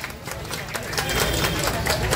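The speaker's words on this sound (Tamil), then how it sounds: "எல்லாம் பெரிய கைத்தட்டி கொடுங்க, வாழ்த்துக்கள் சொல்லுவோம்." An audience at a Super Singer Junior stage event claps, a dense patter of applause that grows fuller toward the end, with voices mixed in.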